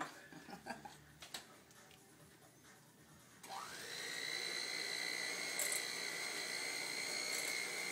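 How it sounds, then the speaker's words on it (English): A hand mixer whips stuffed mashed potatoes: after a few seconds of quiet clatter and handling, the motor spins up into a steady high whine that keeps running to the end, close and fairly loud. "I'm just going to add this to our potatoes and beat it all up together. I'm going to give it a good whipping."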